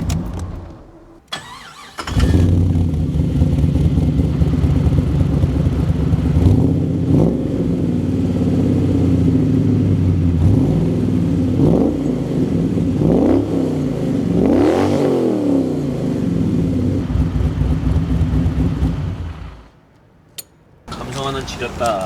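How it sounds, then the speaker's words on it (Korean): BMW E32 735iL sedan swapped with a GM LS1 V8, revving loudly through its exhaust in repeated deep throttle blips and rising sweeps that hold for about seventeen seconds, close up, before settling back to idle. "배기음을 한번 담아주지 않겠어?"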